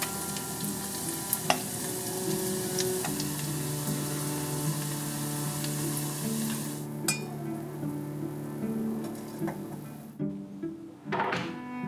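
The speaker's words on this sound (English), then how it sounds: "coat the tofu with potato starch and deep fry it at 160 degrees Celsius for a few" Tofu coated in potato starch deep-frying in oil at 160 degrees Celsius, a continuous close sizzle with occasional clinks and knocks of a utensil, cut off abruptly near the end, with no talk.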